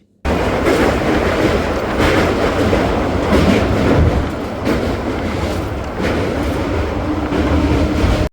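A passenger train running close by with a loud, continuous rumble and rhythmic wheel clatter. The sound stays steady for the whole stretch.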